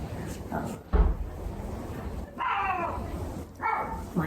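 Dogs barking indoors in a few short bursts, a couple of yips and barks spaced apart, with a thump and bits of background noise between them.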